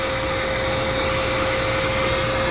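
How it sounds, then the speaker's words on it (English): A hair dryer blows steadily and loudly to dry a dog after a show bath, a continuous airy roar with a faint steady whine and no pauses. "keeping plenty of distance from my dryer from the ear"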